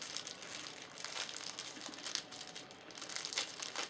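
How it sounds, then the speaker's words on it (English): Plastic packaging being torn open and handled, a close, quiet, continuous crinkling and crackling with small sharper crackles throughout and no speech. "Oh, sorry about the crinkling. I'm going to open one up."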